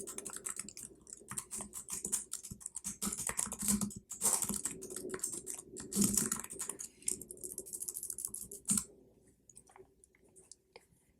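Steady, rapid clicking of a computer keyboard, typed in quick bursts with brief pauses, close and moderately loud, easing into lighter, sparser taps near the end.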